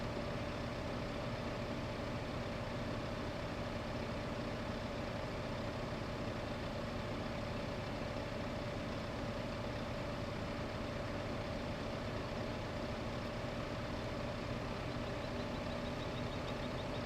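A small tractor engine in Farming Simulator 15 drones steadily while pulling a loaded trailer uphill, a constant low idle-like rumble with no change in pace, fairly quiet and alone.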